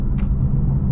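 A 2018 BMW M4 gives a deep, steady exhaust rumble, loud and close, sustained with no breaks for about a second, with no voices.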